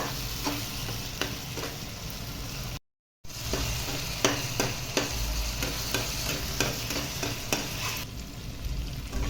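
Salted tomatoes cooking in a pan on the stove, a steady soft sizzle with repeated scraping strokes of a spoon stirring them, close and continuous.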